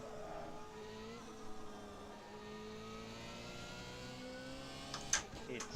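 A Porsche race car engine in the Assetto Corsa racing game drones steadily at mid pitch, holding a fairly even rev with slight swells, then ends in a brief burst of sharper noise.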